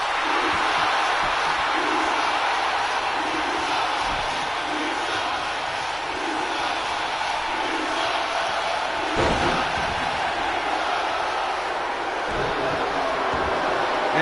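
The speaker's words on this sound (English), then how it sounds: "And this crowd hates the Key-Man." A live wrestling crowd in Providence, Rhode Island fills the hall with a continuous loud roar of jeering and shouting, with a few dull slams from the ring under the steady din.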